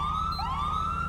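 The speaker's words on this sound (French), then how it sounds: "La sirène également." Police Dodge Charger siren in GTA 5 wails loud and close, a steady electronic tone with a sweeping second pitch rising beneath it, over a low engine rumble.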